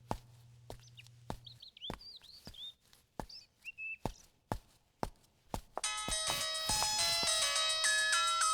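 A mobile phone ringtone starts loud and bright after a run of sharp clicks and faint chirpy beeps, its layered melodic tones ringing on steadily with no talking over it.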